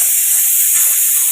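Loud, steady hiss of steam escaping from a leaking pressure cooker, a single unbroken rush across the short stretch with nothing else over it.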